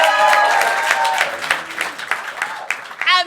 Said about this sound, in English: Can you give a round of applause for Dave Bracey and Ed Bailey?